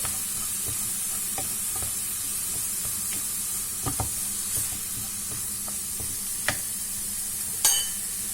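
Plain, unmarinated minced meat sizzles in a hot pan with a steady frying hiss, broken by scattered scraping clicks as it is stirred, close and with no voices.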